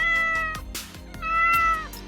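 A domestic cat meows loudly and close up, a few drawn-out tonal cries following one another with short gaps, with no talking.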